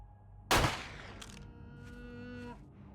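A deer in the survival game 7 Days to Die lets out a single loud, cow-like moo that starts abruptly and trails off over about two seconds, with no talk over it.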